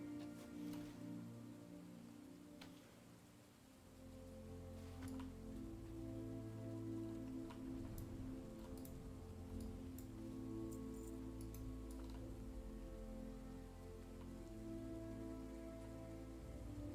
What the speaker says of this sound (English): I love the rain, though, even though this rain doesn't look as good as vanilla rain.